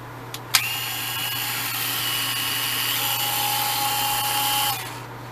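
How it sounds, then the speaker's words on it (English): A Dremel Versa power scrubber starts with a sharp click and then runs for about four seconds as a steady, high motor whine before winding down. "This is the Dremel Versa."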